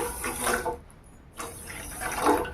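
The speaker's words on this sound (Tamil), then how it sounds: "அதே கப்பில் ரெண்டு கப் அளவுக்கு தண்ணி சேர்த்துக்கலாம்" Water is poured into a pan of sugar for a gram-flour sweet halwa, a rushing splash that pauses briefly and then resumes, close by with no voices.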